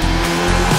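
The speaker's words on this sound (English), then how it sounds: "Abarth fired up its engines at the Milan Park Hyatt" Abarth car engine revving with tire squeal at the Milan Park Hyatt, a loud, close, brief burst of engine roar with a sustained squealing tone.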